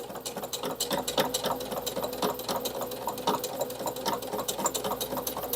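A sewing machine with a guide presser foot stitches a Tilda fabric tea coaster at stitch length 2.5, running close and steady with a fast, even rattling rhythm.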